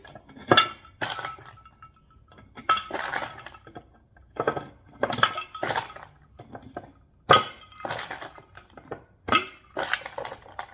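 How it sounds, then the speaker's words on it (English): Ice cubes clink and rattle against each other as they slide into a bottle while margaritas are made, in several close, sharp bursts of glassy knocking separated by short pauses. "So I'm just going to slide those in there."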